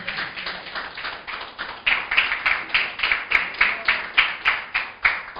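A church congregation clapping for the Lord, starting as a scattered patter and settling into a loud, steady rhythmic unison clap roughly every third of a second, heard alone without speech.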